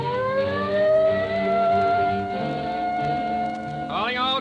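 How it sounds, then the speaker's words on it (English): A police car siren in a live radio drama: a loud wailing tone rising and falling, then sweeping up sharply near the end, with voices speaking over it. "There's the police car."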